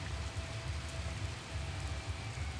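Steady rain in an American football video game, a faint even hiss of falling drops with a low rumble underneath, continuous and unbroken throughout.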